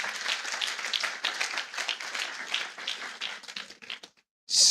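Congregation applauding in a church, dense sustained clapping from many hands that thins out and stops, followed by a brief loud burst at the end.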